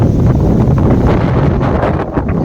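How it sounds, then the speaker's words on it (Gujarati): Steady wind gusts outdoors in a Kesar mango orchard, buffeting the microphone with a loud, continuous rumbling roar and no speech. "એટલે પવન કેટલો આવે છે."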